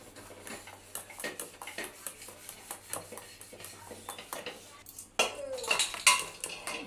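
Cake batter of beaten eggs, crushed biscuit crumbs and a little flour being mixed in a bowl, giving steady rhythmic scraping and clinking of a utensil against the bowl, close and clear, growing louder and busier toward the end.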